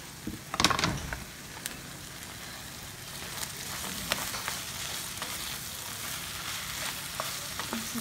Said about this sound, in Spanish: Se está cocinando el elote, la jaiba